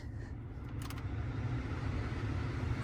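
A truck's engine idles steadily in a low continuous rumble, close and unbroken, just after starting on a hot day at a dealer auction, with the hood open and no talk over it.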